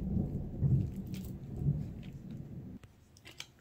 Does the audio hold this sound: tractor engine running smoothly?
no